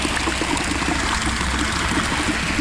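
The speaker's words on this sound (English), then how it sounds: "We'll just load this bucket up. We'll go about halfway up with the water." Water pours steadily into a bucket being filled about halfway for priming a 50-meter concrete pump, a continuous close splashing trickle with no talk.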